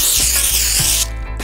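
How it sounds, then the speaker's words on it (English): A short, steady hiss of baking spray from a can coats a baking pan for about a second, then cuts off, close and alone with no talking. "Spray the baking pan with baking spray."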